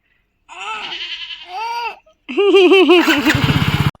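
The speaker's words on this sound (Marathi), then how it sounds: "तर इथे शेळी ओरडते" Goat bleats on a banana farm, a few wavering calls close by, the later ones loud and shaky with a rapid tremolo.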